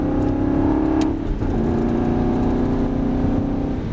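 An Aston Martin V8 Vantage engine revs steadily at high pitch, then dips briefly and climbs again as it shifts into fourth gear, loud and close with no talking.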